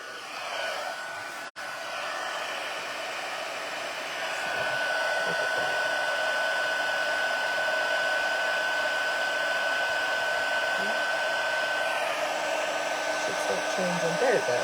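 A heat tool sets embossing powder on a stamped card. A close, steady blowing whir drops out briefly early on, then grows louder after a few seconds and holds there continuously.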